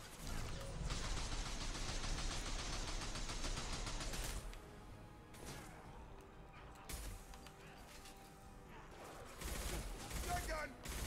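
Shotgun blasts in Mass Effect combat, a dense run of booming shots and clattering mechanisms through the first seconds, then scattered loud bursts after a lull.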